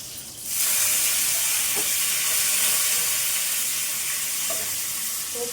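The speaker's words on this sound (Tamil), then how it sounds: "இந்த சைடு எண்ணெய் வச்சு கடுகு போட்டுட்டு கொஞ்சம் கருவேப்பிலை போட்டுக்கிறேன்" Mustard seeds and curry leaves sizzling in hot oil for a sambar tempering, a loud, steady frying hiss that starts abruptly, with faint crackles and pops over the continuous sizzle.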